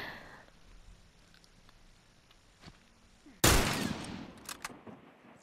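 Gunfire in The Last of Us during a fight with military soldiers: quiet ambience and a faint crack, then a loud sudden burst of shots with a few sharp pops trailing off.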